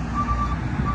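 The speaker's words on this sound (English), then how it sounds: "sorry for the traffic noise" Road traffic rumbles steadily outside a mobile home, with a low truck drone and a faint repeating reversing beep running through the whole second.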